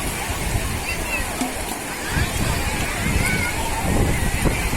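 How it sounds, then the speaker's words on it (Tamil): Waves wash and slosh continuously on a sandy beach at Velankanni, a broad rushing roar with gusts of wind buffeting the microphone. "அலை பாருங்க எப்படி வருது பாருங்க."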